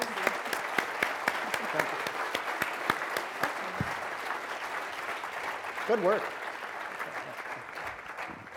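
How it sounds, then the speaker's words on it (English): An audience claps steadily for two speakers at a bike summit lunch, a dense sustained round of applause filling the room while a voice briefly speaks over it. "Please give these two great speakers a round of applause."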